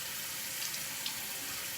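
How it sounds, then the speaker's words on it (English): Water running and splashing at a bathroom sink as someone cups it onto their face, a continuous close hiss of tap flow with small splashes, no speech. "you can pull a little water and then rest your face in the water"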